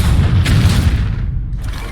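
An exploding bomb card in the Hearthstone digital card game gives a loud, dense boom with a rumbling low-end tail lasting nearly two seconds, heard alone with no talking.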